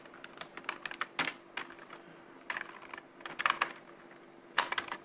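Keys clatter on a computer keyboard in uneven bursts of quick taps with short pauses between words, close and fairly clear against a quiet room, with no one speaking.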